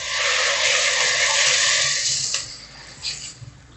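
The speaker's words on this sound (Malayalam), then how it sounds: "ഇതിലേക്ക് ഞാൻ വെള്ളം ഒഴിച്ചു കൊടുക്കുകയാണ്." Water is poured into a pot of curry with dried cassava and chickpeas, making a loud, continuous hissing splash that tapers off into a few smaller splashes and drips.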